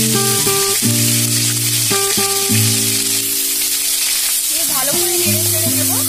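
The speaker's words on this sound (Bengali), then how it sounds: "এবার গ্রেট করা পেঁয়াজটা দিয়ে দিলাম।" Grated onion frying in a pan for a banana-flower curry, with a loud, steady sizzle throughout, partly under background music.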